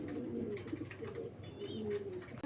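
Lahori and racer pigeons coo softly at close range in a quiet setting, with low, throaty calls rolling in short phrases.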